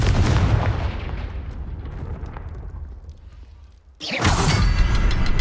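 A booming blast from the Confringo explosion spell in Hogwarts Mystery on PC, a loud roar that fades off, then a second burst breaks in near the end.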